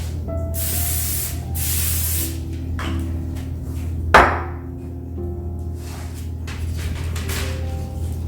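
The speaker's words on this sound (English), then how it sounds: "lightly spray with oil." Two or three short hissing bursts from a cooking oil spray can onto a parchment-lined pan, close and fairly loud, with a low steady hum underneath and a sharp knock partway through.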